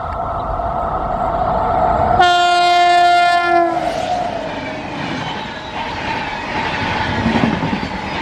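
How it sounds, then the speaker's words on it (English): A loud train horn blares for about two seconds as an Indian Railways WAP7 electric locomotive rumbles past close by, followed by the steady roar of passing rail cars. "The train came with a special locomotive, Royapuram's WAP7 with India's 78 Independence Day livery."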